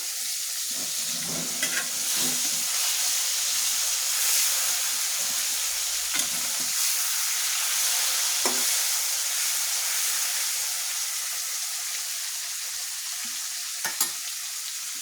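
Fish deep-frying in a pan of hot oil, a loud continuous crackling sizzle throughout, with a few brief clinks and bubbling bursts along the way.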